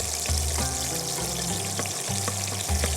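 Chopped garlic and onion sizzling in hot oil in a pan, a steady loud crackling fry with occasional spatters and pops, no voices.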